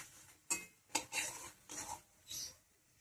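Pumpkin flower fritters lifted one by one out of hot oil onto a plate lined with tissue paper, heard as a few separate metallic scrapes and clinks of utensil against pan, close and fairly soft, with a faint sizzle beneath.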